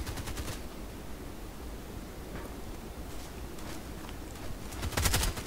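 Automatic weapon fire in the online shooter Contract Wars, a Vityaz SMG match: dense, fairly distant bursts of shots running under steady background noise, with a louder, closer burst near the end.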